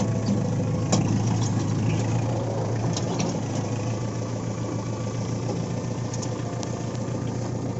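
A Kubota MU4501 45 hp tractor with a reversible plough runs its diesel engine: a loud, steady low drone throughout with faint clanks on top and no talking.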